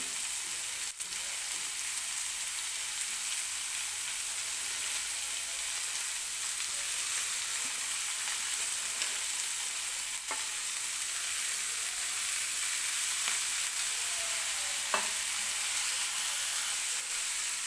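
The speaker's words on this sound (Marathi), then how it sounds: "कोबी टाकलेला आहे आता छान असं याला परतून घेऊया" Lengthwise-cut cabbage sizzles as it is sautéed in a pan, a steady even hiss of frying running throughout with a few faint clinks of stirring, close and moderately quiet.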